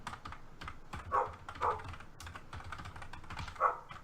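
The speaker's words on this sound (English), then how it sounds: "I don't know what she's barking at." A dog barks in a backyard, three separate barks at moderate distance over steady keyboard typing clatter that runs throughout.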